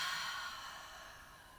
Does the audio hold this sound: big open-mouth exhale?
yes